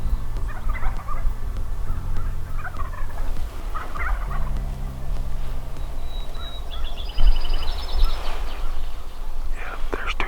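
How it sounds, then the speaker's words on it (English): Wild turkeys gobbling in the distance on an early-morning hunt, faint bursts rising now and then over steady low outdoor rumble, with a louder stretch near the end. "And then they start hearing gobbles."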